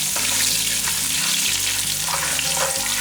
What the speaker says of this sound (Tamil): கடுகு உளுந்தம்பருப்பு கடலைப்பருப்பு எல்லாமே நல்லா பொரியணும்